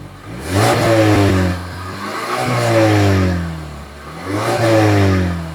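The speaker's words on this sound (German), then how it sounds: "Und jetzt probieren wir natürlich auch mal hier ein bisschen Gas zu geben." A Mazda3 BP engine with an aftermarket sport exhaust revs hard three times, rising and falling through a deep, throaty exhaust roar, loud and close with no talking.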